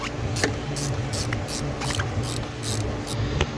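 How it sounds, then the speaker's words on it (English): A ratchet wrench with an 8mm socket loosens an intake hose clamp on a 2016 Jeep Wrangler, giving rapid, close pawl clicks in repeated short strokes over a low background hum. "we're going to loosen it using an 8mm socket"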